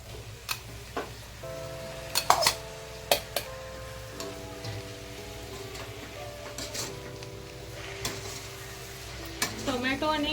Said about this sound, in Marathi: एकदा त्याला हलकस ढवळून घेऊया